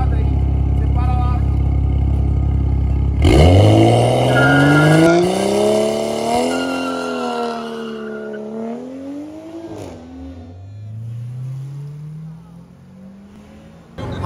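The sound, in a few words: M235 car tire squeal burnout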